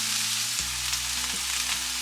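Broccoli sautéing in a frying pan gives a loud, continuous sizzle with light clinks as pieces drop in, close and steady, with no voices over it.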